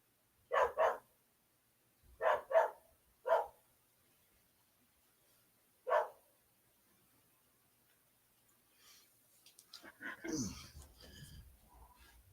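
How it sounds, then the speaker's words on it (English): Dogs playing outdoors bark in short bursts, a double bark, a pair, a single, then one more after a pause, followed by a person talking over a softer, whining sound. "I tell from the way they're barking"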